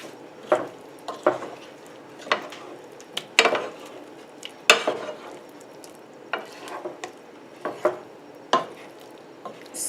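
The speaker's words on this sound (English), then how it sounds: "I have a bigger spoon and I'm about to stir this." Big spoon stirring aloo gobi in a pan, a string of soft scraping and clinking strokes with light sizzle underneath, close up and moderately quiet.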